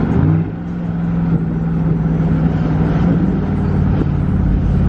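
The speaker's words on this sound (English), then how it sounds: "we're gonna do a couple downshifts so you guys can kind of hear what the downshifts sound like" 2010 Cadillac Escalade with muffler-delete exhaust downshifting, a loud, steady low droning exhaust note with a sustained tone heard from inside the vehicle, no voices.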